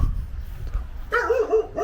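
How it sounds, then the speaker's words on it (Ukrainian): A small dog barks outdoors near an old town building, a few quick yaps after a stretch of low rumbling background, fairly close and clear. "песик гавкає"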